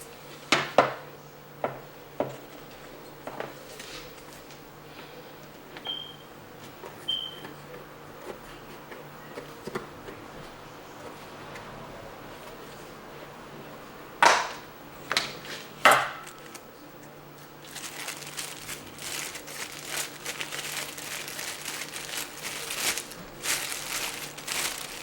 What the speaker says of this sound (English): I'm gonna get my bowl, open up my powder bleach.